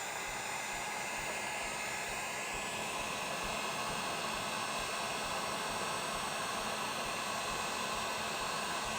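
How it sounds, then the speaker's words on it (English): A heat gun runs at full power, giving a loud, steady, close breathy roar that holds unchanged throughout with no speech. "We're gonna take our heat gun"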